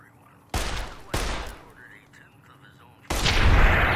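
Gunfire in the video game Fallout: New Vegas: two loud, sharp shots about half a second apart, followed after a quieter stretch by a third heavier blast that rings on, with faint background game sounds between.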